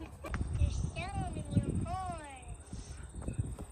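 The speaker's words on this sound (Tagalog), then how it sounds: "There's so many horses." Several horses gathered close by, with hoof and animal sounds mixed under loud, continuous voices of people talking nearby.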